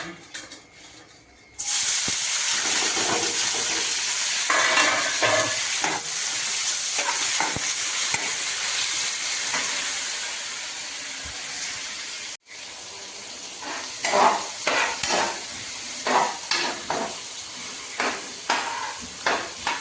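Onion frying in hot mustard oil in a village kitchen, a loud continuous sizzle with intermittent stirring scrapes and clinks, with a brief drop in the noise partway through.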